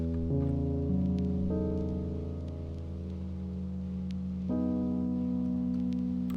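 Soft Rhodes electric piano plays three sustained triad chords in a lofi beat made in FL Studio, each held for a couple of seconds before changing, mellow and quiet with no voices.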